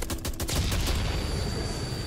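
Rapid bursts of gunfire in a SpongeBob Plankton video game, a quick volley of loud shots at the start giving way to a sustained noisy wash.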